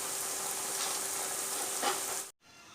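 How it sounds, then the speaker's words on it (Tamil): Kuzhal paniyaram batter frying in hot oil, a steady dense sizzle that runs unbroken for over two seconds before cutting off abruptly. "இப்போ இந்த பாயில் பணியாராவும் நம்ம வந்து ஃப்ரை பண்ணி எடுத்துடலாம்"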